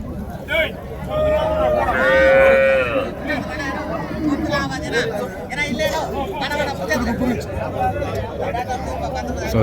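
Cattle at a busy cow market in Krishnagiri district, with a lowing moo standing out above a steady crowd babble and nearby voices talking throughout.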